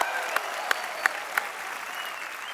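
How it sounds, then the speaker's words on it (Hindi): A studio audience at a comedy TV show, The Kapil Sharma Show, breaks into steady applause, a dense wash of clapping with a few sharper claps standing out in the first second and a half, holding at a moderate level throughout. "एक बार फिर से तालियां बनती हैं।"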